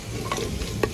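Chicken being stirred and mixed with red chili, turmeric and salt in a hot pan, a brief scraping, sizzling shuffle lasting under a second, close and fairly loud, with a sharper clack near the end.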